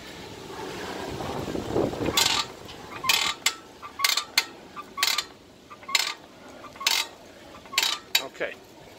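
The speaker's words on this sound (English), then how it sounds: "I'm gonna be lifting the trailer until both axles and sets of wheels and the axles are gonna lift off the ground" A jack raising a car hauler trailer until both axles lift off the ground, heard as a series of sharp, evenly spaced metallic ratcheting clicks, loud and close, with no talk.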